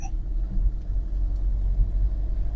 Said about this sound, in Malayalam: നിങ്ങൾ ആക്സിലേറ്റർ കൊടുത്ത് ഓരോ ഗിയറും മാറിപ്പോവുക ഇനി അടുത്ത തേർഡ് ഗിയർ